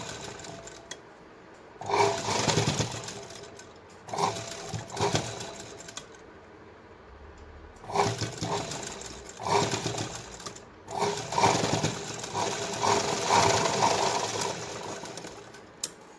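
A sewing machine runs in several bursts of steady stitching as it sews along the lining of a katori blouse, with short pauses between runs and a long continuous stretch near the end.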